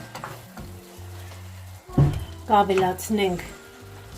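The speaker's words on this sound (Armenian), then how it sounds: "հիմա հարկավոր է, որ տապակվի" Minced meat for ishli kufta (kibbeh) sizzles and is stirred in a frying pan, with a steady fry that grows louder in bursts under a person talking.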